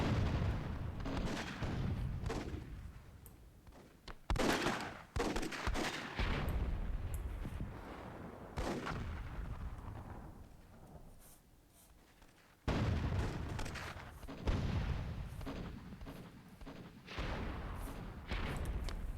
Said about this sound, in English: Nice cannon shots there from Scratch, something that you typically expect.